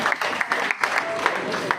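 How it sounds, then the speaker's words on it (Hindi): An audience claps at an award ceremony honouring meritorious students in a Jat dharamshala hall in Nangloi. The applause is dense, steady and loud, with a few sharper claps rising from a continuous crowd patter. "भाई जोरदार ताली सिन्नू साहब के लिए।"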